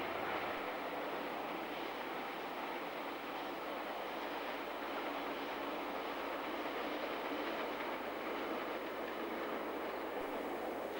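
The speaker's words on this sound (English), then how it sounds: "The DXR is Transrail's most powerful diesel-electric loco" A Transrail DXR diesel-electric locomotive rolls past Rangiriri, heard as a faint, steady, broad rumble and rushing roar that holds evenly throughout, with no voices.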